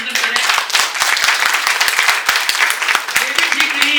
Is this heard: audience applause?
yes